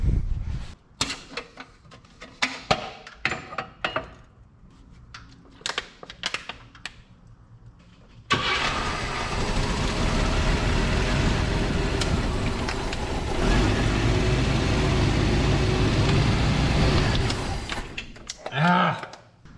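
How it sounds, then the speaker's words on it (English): A 1984 Chevy S-10 pickup engine that runs but acts starved of fuel, first scattered knocks and voices, then a steady loud engine drone that holds for about ten seconds before cutting off. "It's running on gas when we give it gas, but it's acting like it ain't getting gas"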